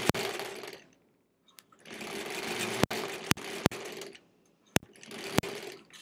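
A sewing machine stitches a quilt block for a sampler quilt in steady whirring bursts, pausing briefly between runs, with a few sharp clicks and knocks from handling the fabric. Close and fairly quiet.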